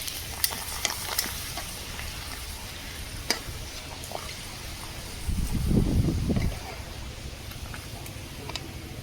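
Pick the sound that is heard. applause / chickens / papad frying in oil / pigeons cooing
papad frying in oil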